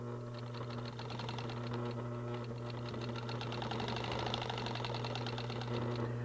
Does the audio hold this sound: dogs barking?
no